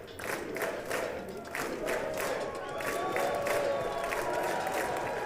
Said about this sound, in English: Oh, they're chanting USA,